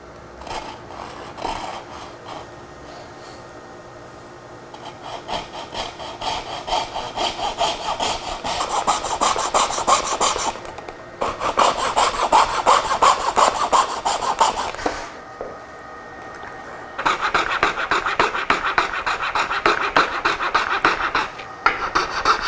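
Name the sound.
hand sawing wood trim using a miter as a guide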